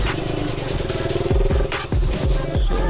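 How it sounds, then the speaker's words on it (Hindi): A motorcycle cranks and its engine catches, sputtering and revving in several sharp bursts up close, rising pulses of engine noise with clattering, ahead of a group ride. "करते हैं बाइक स्टार्ट।"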